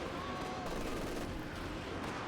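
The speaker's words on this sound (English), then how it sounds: "Got a Katyusha battleship here being unleashed against Duffman's force in the south" Katyusha rocket artillery barrage in Company of Heroes 2, a dense continuous roar of launches and blasts filling the whole stretch without a break.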